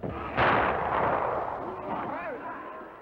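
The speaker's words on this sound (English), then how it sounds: "There's the sound of the gunshot." A single loud gunshot from the 1954 film Seven Samurai, a sharp crack with a long rolling echo fading over a few seconds, as someone speaks over the tail.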